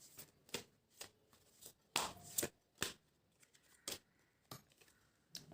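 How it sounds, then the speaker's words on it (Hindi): Tarot cards are shuffled by hand in a quiet room, a series of soft, uneven riffling slaps and flicks arriving in short bursts about once or twice a second. "कार्ड्स हमारे शफल करके रीडिंग स्टार्ट कर सकते हैं।"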